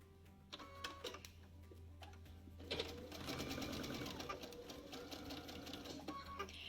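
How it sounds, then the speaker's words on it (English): A sewing machine stitches fabric strips around the centre square of a log cabin quilt block. A few light clicks and a low hum come first, then a steady run of fast, close stitching. "sewing around your centre square"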